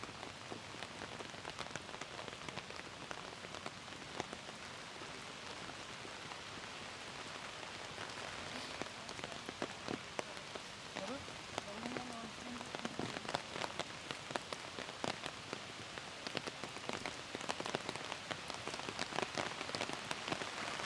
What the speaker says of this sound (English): So now the rain is intensifying